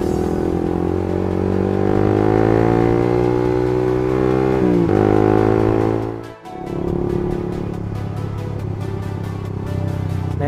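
A manual-clutch motorcycle pulls away as the engine revs up steadily, with a rising drone. It dips briefly at a gear change, then settles into a steady run. The engine is loud and close, and no one speaks.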